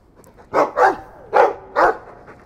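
A dog in the Dragon Age II video game barks four times in a steady rhythm, loud and close, with short gaps between each bark.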